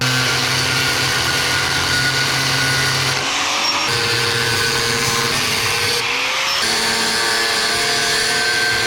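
A power tool cuts through the protruding bolt ends on a ute's leaf springs with a loud, continuous whine that shifts pitch twice as the blade bites and slows, running steadily for the whole stretch.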